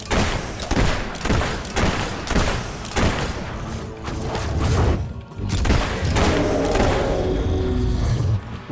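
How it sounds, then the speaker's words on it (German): Rapid bursts of gunfire from the video game Fable III crack out one after another, close and loud, with booming thuds and mechanical clicks between the shots and a brief lull before the firing resumes. "Und jetzt schieße ich dir ins Gesicht."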